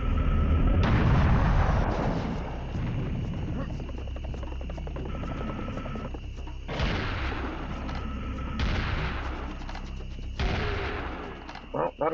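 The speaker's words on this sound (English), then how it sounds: "we're gonna have to get our cannon ready." A cannon fires in Serious Sam: The First Encounter, with several loud, booming blasts at intervals that each trail into rumbling decay, over continuous game background noise.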